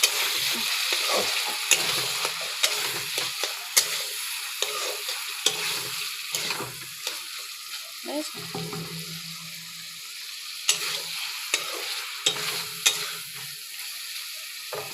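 Taro leaves fry in a pan while being stirred, soft sizzling broken by repeated scraping and clattering stirs, a hint of water, no voices.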